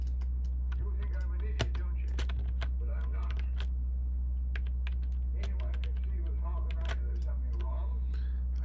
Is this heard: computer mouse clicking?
yes